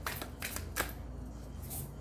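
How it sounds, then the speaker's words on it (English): Deck of inspirational cards being shuffled at close range, a quiet run of riffling bursts with one sharper flick near the middle, no voices over it. "Get one more shuffle, then out."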